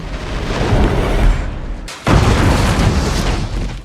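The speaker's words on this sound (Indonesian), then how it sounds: "Bom daging buatan Ron berhasil menghancurkan 2 ekor hiu banteng sekaligus" Homemade meat bomb exploding in the shark film Thrash, a loud sustained blast roar that cuts out briefly, then surges back with rumbling debris and low booming.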